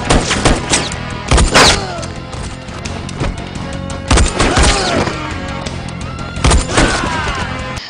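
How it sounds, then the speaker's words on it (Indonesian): Gunfire rings out in a film shootout as henchmen chase a man fleeing with his younger brother: several sharp, loud shots come in short clusters over a tense music score, with impacts and reverberant tails. "Malik dikejar oleh anak buah Pailong dan terjadilah aksi tembak-tembakan"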